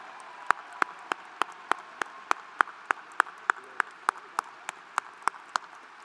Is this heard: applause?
yes